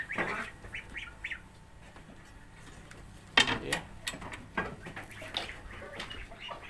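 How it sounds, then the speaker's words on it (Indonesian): Thin high peeping of young ducklings, scattered short calls coming and going over a quiet background with a little water splashing. "Ini anakan bebeknya"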